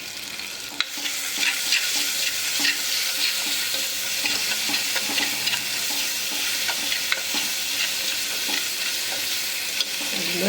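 Food sautéing with salt in a pan for a Kerala-style lunch of clam meat and pulissery, a steady dense sizzle with frequent stirring scrapes and clicks throughout, close and continuous.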